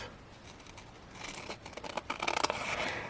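Scissors snipping off a 3-inch length from an upcycled chopstick lucet project, a soft scrape building into a quick run of close, crisp cutting clicks.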